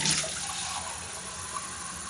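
Water runs into a bowl of bread dough for spianata, a steady, close splashing pour that carries alone through the clip with a brief louder burst at the start.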